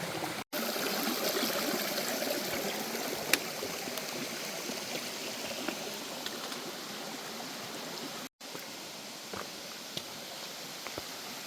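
A lovely brook runs along the Appalachian Trail near Mount Lafayette, its steady close babble and trickle of water filling the air continuously with no talk.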